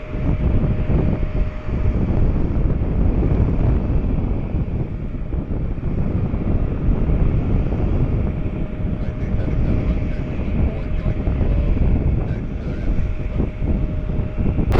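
Airliner arriving from Houston touches down on a runway, heard as a steady broad roar with wind buffeting throughout, loud and continuous without distinct impact.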